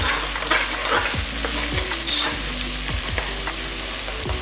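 Onions with slit green chillies sauté in oil for chicken pulao, giving a steady close sizzle broken by regular scraping stir strokes about once a second.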